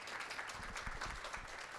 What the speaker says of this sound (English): A huge round of applause for Mr. Rene, Ms. Gill, and my entire DP team